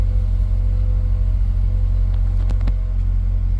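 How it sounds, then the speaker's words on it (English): Chevy Impala engine idling after starting with a newly programmed key, a steady low rumble close by with a couple of brief clicks partway through. "quickly start the car with the new key"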